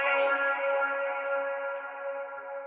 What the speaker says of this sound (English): I have the vocal chops.